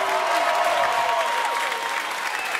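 A crowd applauds a rapper at a live popular-culture awards ceremony, a dense, steady roar of clapping that fades slightly toward the end, with a voice briefly heard over it.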